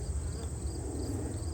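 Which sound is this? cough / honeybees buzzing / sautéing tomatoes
honeybees buzzing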